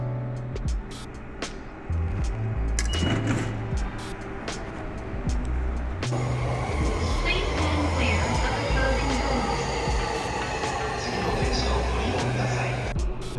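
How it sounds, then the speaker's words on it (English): A Tokyo Ginza line subway train rumbles steadily with low droning motor tones, wheel noise and faint squeals, loud and close throughout as if heard from on board, with a brief shift in tone a few seconds in. "So I'm going to jump on the Ginza metro line now"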